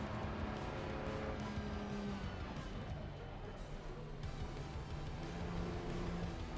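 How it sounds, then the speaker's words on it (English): Engine drone of race cars in the sim racing game Assetto Corsa Competizione, a steady layered roar with shifting pitches as cars run past, continuous and fairly loud with no clear individual pass-bys standing out. "Just waiting for other cars to come by."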